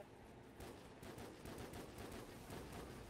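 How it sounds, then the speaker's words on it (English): Rapid automatic gunfire in the video game Call of Duty 4: Modern Warfare, a quick run of dense, closely spaced shots that keeps going for a few seconds, faint and with no talking. "I feel like this gun should not be, like, shooting like that."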